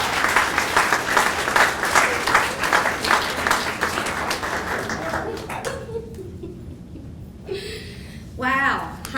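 Audience applause welcoming a speaker at a senior volunteer hall of fame ceremony: dense, steady clapping from a large crowd for about six seconds, then thinning out into scattered claps with brief chuckles and murmurs.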